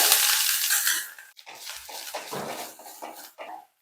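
Grated coconut hits hot oil in a pan for Kerala pavakka theeyal, a loud close sizzle that fades, followed by scraping and stirring sounds with a clink of a utensil.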